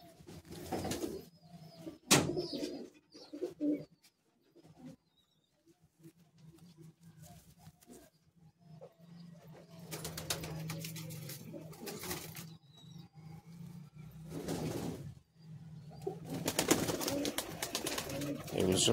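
Breeder pigeons in a loft of high-flying Madrasi pigeons coo softly at intervals, with scattered fluttering and patter nearby and brief moments of quiet between the calls.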